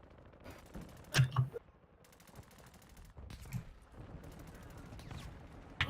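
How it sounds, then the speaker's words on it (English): Gunfire in a Call of Duty mod, bursts of rapid automatic shots with a couple of sharp louder cracks, spread unevenly across a few seconds with quieter stretches between. "What am I getting shot from?"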